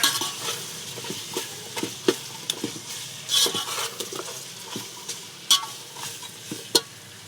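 Meat frying in a pan over a wood-fired stove, soft sizzling beneath repeated scraping and clinking of a utensil stirring against the metal, irregular close-up strokes.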